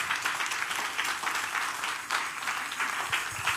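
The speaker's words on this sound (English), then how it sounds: "You can clap your hands for the Lord." A church congregation clapping their hands during a sermon, a dense, steady burst of many palms with rhythmic swells, moderately distant and filling the room.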